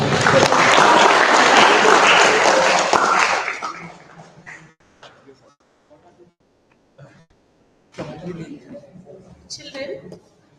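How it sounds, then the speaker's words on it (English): An audience applauds after a chemistry lecture, loud dense clapping for about three seconds that fades out, followed by scattered claps, shuffling and brief voices in the hall. "A round of applause for"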